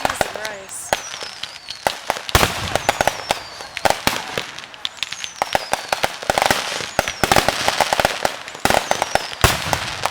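Fireworks explode in rapid, irregular bursts of sharp bangs and crackles, some with rising whistles, loud and fairly close, with occasional voices in between.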